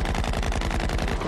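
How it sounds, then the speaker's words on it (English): Rapid automatic gunfire from a 1994 science-fiction TV series, a steady fast rattle of shots filling the whole moment, loud and close with no talk over it. "Shooting at us. We gotta fire back."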